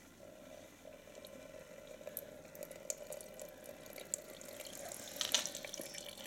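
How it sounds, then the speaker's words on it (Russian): Gasoline trickles and spatters from an opened fuel filter on a Suzuki DF30 four-stroke injected outboard, a steady faint liquid flow with a low hum beneath and a brief louder splash near the end, no talk. "Да, бензин потек."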